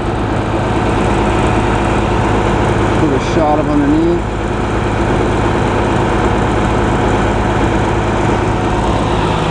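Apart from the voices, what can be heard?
Cummins ISC 8.3 liter turbo diesel bus engine idling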